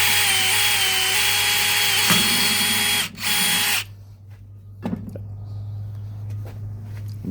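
A power drill bores holes into an aluminium exterior lamp mount, a loud close continuous whine for about three seconds with a brief dip before stopping, followed by quieter handling noises over a steady low hum.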